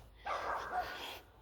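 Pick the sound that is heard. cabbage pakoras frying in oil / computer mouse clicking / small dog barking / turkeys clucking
small dog barking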